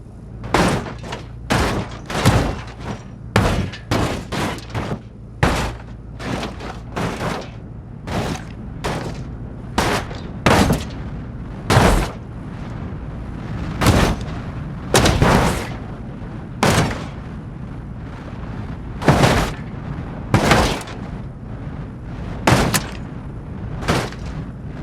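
Repeated heavy crashing impacts from a car dropped off a cliff in the BeamNG Drive driving simulation game, dozens of loud, sharp bangs and thuds tumbling in irregular succession over a rumbling background, with no talking.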